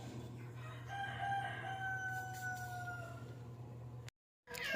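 A rooster, tethered outdoors behind a house, crows in one long, drawn-out call over a steady low hum, ending abruptly in a brief silence.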